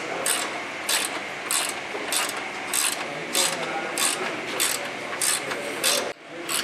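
A hand ratchet snugs 13 mm strut bolts on a Ford Edge (2007–2014 front strut job), clicking in a steady series of about a dozen sharp, close ratcheting strokes with brief pauses between them.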